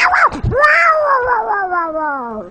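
A comedian imitates a cat with a long, drawn-out vocal meow that rises and then slowly falls in a wavering caterwaul, preceded by short yowling sounds, close and clear.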